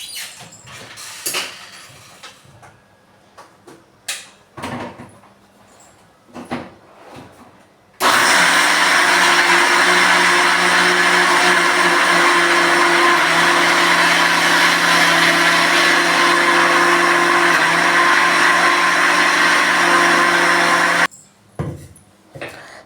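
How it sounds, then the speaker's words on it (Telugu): A kitchen mixer grinder whirs loudly and steadily for about thirteen seconds as it grinds salted dosa batter, starting abruptly after some scattered clinks and handling noises and cutting off sharply before more clatter. "దోశ పిండి మిక్సీలోనికి వేసి మిక్సీని గ్రైండర్ చేసేసాను"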